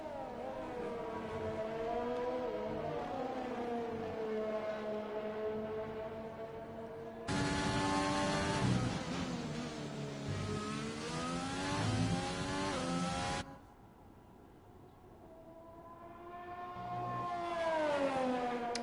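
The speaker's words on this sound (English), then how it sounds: "Why are these cars still scooting around the place?" Formula 1 cars in F1 2020 at the Abu Dhabi circuit, engines whining and revving steadily as they circulate, with a louder, harsher stretch midway before the tone fades and rises again.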